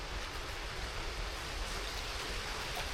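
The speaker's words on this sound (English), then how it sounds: "Oh my god, that's rain." Rain falls steadily in Venice, a dense even hiss of drops landing nearby, continuous and moderately loud, with no voices.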